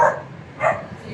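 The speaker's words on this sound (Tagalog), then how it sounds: "Mga aso." Dogs guarding a house bark twice in quick succession, moderately close and alone without talk.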